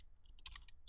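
Quiet keystrokes on a computer keyboard as a command is typed: a short cluster of close, crisp clicks over faint background hum, with no talking.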